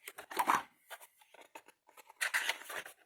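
Scissors snipping through calendar month pages, a cluster of crisp close cuts, a short pause of lighter snips, then another burst of cutting, quiet overall with no talk.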